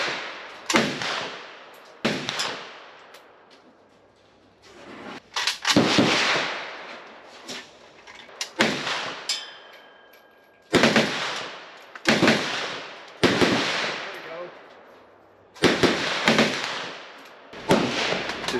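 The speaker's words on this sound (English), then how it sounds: "Just trying to have a nice, pleasant conversation next to the shooting." Gunshots ring out at a shooting range in Vietnam, a series of loud, sharp reports spaced a second or two apart, some in quick pairs, each followed by a short echoing decay against a quiet background.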